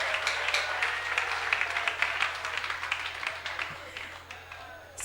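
A church congregation claps for Jesus in a quick, steady rhythm, the applause moderately loud and continuous over a low sustained hum, with a voice speaking faintly beneath it.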